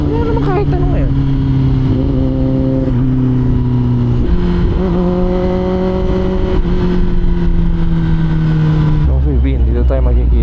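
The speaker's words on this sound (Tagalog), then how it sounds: "Traffic papuntang Makati oh." Heavy road traffic bound for Makati, with steady engine drone and motorcycle revs rising and shifting throughout, close and loud, while someone talks over it.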